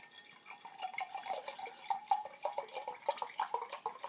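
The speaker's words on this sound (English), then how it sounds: "Let's go straight in with the pour." Blackie's Brewery plum bitter beer, a low-carbonation 5.7% ale, pours into a glass, making soft, faint trickling and dripping splashes over several seconds, with no voices.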